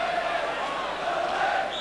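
The Luton Town home crowd roars and chants at a football match, a steady, distant mass of voices filling the stadium throughout, with a commentator talking over it.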